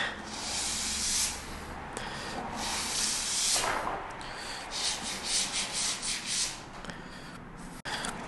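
Hand sanding red oak with a folded orbital-sander pad under very light pressure, giving a steady, close, soft rubbing hiss in repeated strokes across the whole stretch, with no talk.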